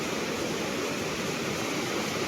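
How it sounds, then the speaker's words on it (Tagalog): Strong river water rushing steadily at Wawa in Montalban, Rizal, a continuous broadband roar close by and loud, with no voices over it. "Grabe yung tubig dito sa may Wawa."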